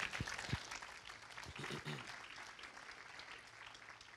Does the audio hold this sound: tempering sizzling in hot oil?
no